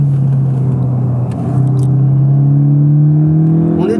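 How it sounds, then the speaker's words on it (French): A car fitted with an aftermarket exhaust accelerates on the Magny-Cours Formula 1 circuit, a loud, steady engine drone whose pitch climbs through the run, close and continuous with no talk. "on va vous faire une accélération, vous allez entendre."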